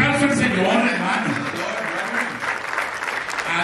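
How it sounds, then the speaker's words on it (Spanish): Church congregation applauding during a sermon, a continuous dense burst of many hands clapping at steady volume, with voices mixed in underneath. "Denle un aplauso al Señor,"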